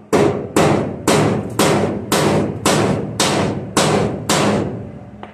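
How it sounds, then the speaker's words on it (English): Nine sharp, evenly spaced metallic strikes ring out one after another, each a loud hammer blow shaping truck body sheet metal with a brief ringing decay. "have a hammer on hand, so that way you can massage the metal"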